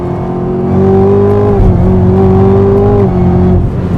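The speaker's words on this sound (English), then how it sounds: "A little bit of a standing burnout." A 2020 Chevy Camaro ZL1 1LE roars through a standing burnout, its engine revving loud and close with a sustained, steady tone that dips briefly, then holds again.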